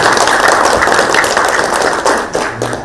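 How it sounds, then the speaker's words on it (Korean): Welcoming applause from an audience at a Kwanhun Club debate hall, dense steady clapping from many hands throughout, thinning slightly toward the end. "환영의 박수 부탁드리겠습니다."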